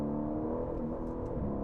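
Aston Martin Vantage with a 4-litre twin-turbo V8 driving through corners, a steady, loud engine drone with a low rumbling hum and rising whir throughout, no voices.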